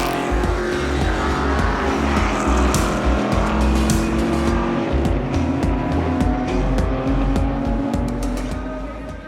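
Shelby Cobra race cars roar around the Spa circuit in a classic race, engines loud and continuous with overlapping revs and passing cars, tire noise mixed in.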